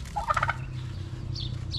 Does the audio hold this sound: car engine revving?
no